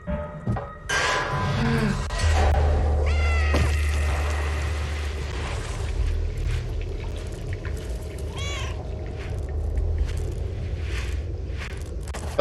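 Cat meows ring out from the video game Stray, a few short mewing calls amid a cutscene with soft scraping, footsteps and a steady low hum underneath, no talking.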